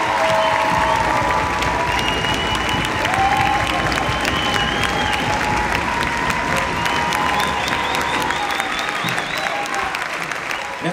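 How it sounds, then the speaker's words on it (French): A theatre audience at a rock opera production claps loudly and steadily, with cheers and whistles rising above the dense applause throughout, and occasional voices mixed into the crowd noise. "je voudrais que vous l'applaudissiez, un grand bravo."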